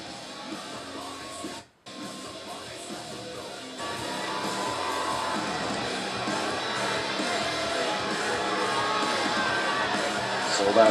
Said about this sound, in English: Sold out crowd getting into it.